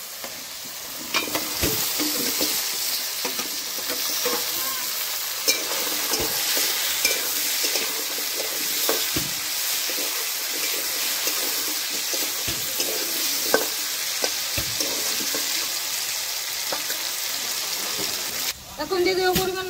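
Potatoes sizzle and fry steadily in a hot pan while being stirred, giving a loud, continuous crackling hiss broken by scraping strokes, with a voice speaking faintly underneath.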